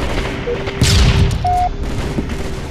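Battle rifle gunfire in Halo 3 multiplayer: a short burst of loud, close shots and an impact roar lasting about half a second, with game sound effects and tones around it.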